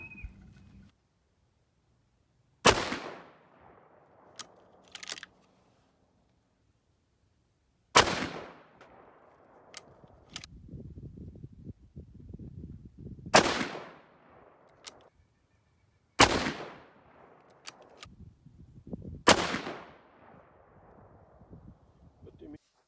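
Five sharp, loud 6.5 Creedmoor rifle shots firing 130-grain Sierra Tipped Game King handloads with Reloader 17 powder, outdoors at a range. Each crack stands alone with long gaps between, the gaps holding a quiet tail, faint rustle and brief speech.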